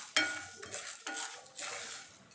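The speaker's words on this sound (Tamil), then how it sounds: "முதல்ல உளுந்தம்பருப்பை வறுத்துக்கலாம் நான் இப்போக்கி வெள்ளை உளுந்து தான் எடுத்திருக்கேன்" White urad dal being roasted in a pan: a few distinct scraping and stirring strokes of a metal spoon against the pan, close and fairly quiet, with no talk.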